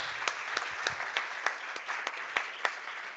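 An audience at a talk on inclusive conversation claps in a light, scattered way, with a few distinct hand claps standing out over a soft steady patter, moderately distant and without speech.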